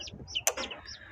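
Backyard laying hens of Kuchinsky Jubilee and Australorp breeds clucking, a few short nearby clucks and soft calls in quick succession over a quiet background.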